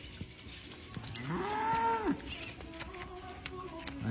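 On a muddy winter pasture, a cow lets out one long, drawn-out moo near the middle, close and clear over a soft outdoor background with scattered small knocks.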